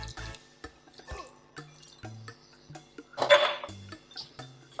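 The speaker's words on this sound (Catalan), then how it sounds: "i ara hi tirem una miqueta d'aigua per fer la salseta que quedi més" Water is splashed into a pan of sardine escabeche, with scattered drips, clinks of pan and utensil, and a brief louder pour in the middle, all close and without talk.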